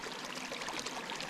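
A natural spring trickles and bubbles up through sand and moss at a trailside lunch stop, a soft, steady watery burble heard close by with no talking.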